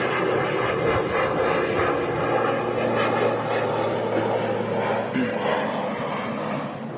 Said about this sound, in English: Ooh, an ATR just rotated.